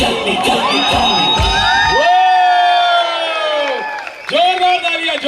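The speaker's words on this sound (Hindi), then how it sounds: "जोरदार तालियां, जोरदार" A crowd at a wedding sangeet performance erupts in loud cheering, with long high whoops and shouts rising and falling in overlapping waves, a brief dip, then a fresh burst of yells.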